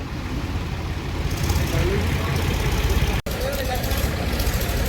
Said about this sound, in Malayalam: അടുത്ത ട്രാക്ടർ വന്നിക്കണ്